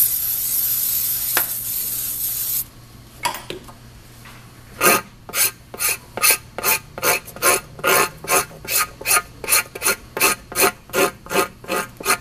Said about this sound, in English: Use a rubber scraper to remove the contaminating silicones and mold release agents from the inner liner surface